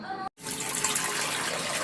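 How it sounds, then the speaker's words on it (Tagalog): Tap water gushing into a container to cook sago for mango tapioca, a steady close splashing rush that starts after a brief silent gap and continues evenly to the end. "Una, maglagay tayo ng tubig."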